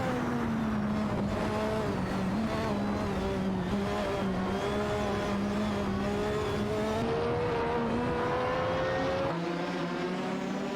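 Engines of McLaren MP4/4 and Lotus 100T race cars in a racing video game scream in a close, continuous high-pitched drone, with pitch climbing and dropping through gear shifts as several cars battle side by side.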